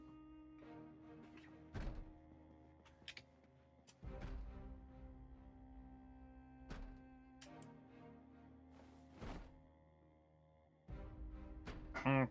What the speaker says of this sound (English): I think they're banging on the door to the cafeteria.